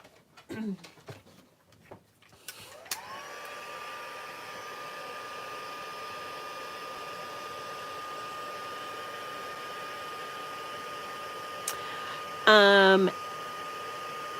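Craft heat tool starts with a click and then blows a steady, even whoosh that holds for about ten seconds. A brief voice cuts in over it near the end.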